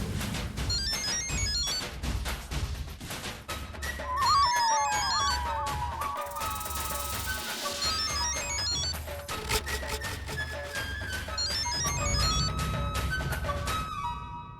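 A mobile phone rings with a melodic ringtone, a continuous series of bright repeating tones heard alone and fairly clear throughout.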